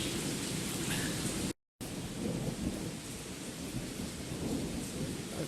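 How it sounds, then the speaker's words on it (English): Thunderstorm during a summer bike ride, heavy steady rain hissing loudly with deep rolling thunder rumbling underneath, broken by one brief moment of silence, and no one talking. "The rain's fine, the thunder's fine, it's the lightning."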